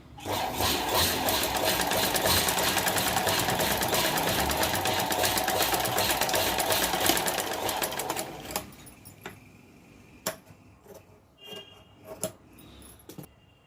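A sewing machine runs steadily for about eight seconds, double-stitching a small homemade purse, then stops, leaving a few brief clicks and taps of handling.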